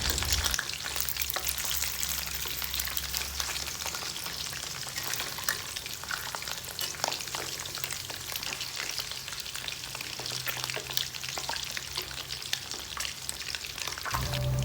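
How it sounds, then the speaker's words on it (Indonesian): Pieces of tuna (ikan tongkol) fry in hot oil over a low flame, giving a steady, dense, close sizzle with crackling pops that run unbroken throughout and no voices. "Selanjutnya, panaskan minyak, lalu kita goreng ikan tongkolnya pakai api yang kecil saja supaya tidak meletup-letup."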